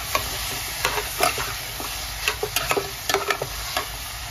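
Raw banana pieces and rock salt are stirred in a pan, with the spoon giving a run of quick, uneven scrapes and clicks over a low, steady sizzle.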